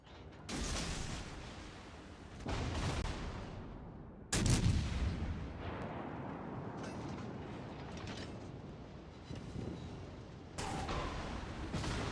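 Naval gunfire in a video game with a Kraken ship: a few heavy booming salvos spaced several seconds apart, each a loud blast followed by a long rumbling decay.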